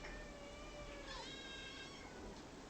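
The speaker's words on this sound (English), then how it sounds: "she must hear all the kitties" Several cats meowing, drawn-out tonal cries that overlap and waver, heard over a steady low background hum with no talking.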